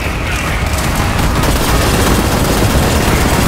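Dense, continuous gunfire in the Borderlands 3 video game, from a character firing double pistols: loud, rapid overlapping shots blending into a constant roar of combat with no pauses.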